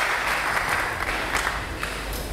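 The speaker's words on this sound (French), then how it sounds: "Est-ce que nous pouvons acclamer très fort pour le roi?" A church congregation applauds warmly and cheers for the king, a dense continuous wash of clapping that holds steady at moderate loudness for a couple of seconds.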